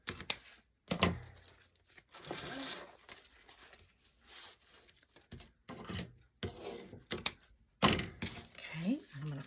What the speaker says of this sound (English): I'm just going to cut them with my scissors.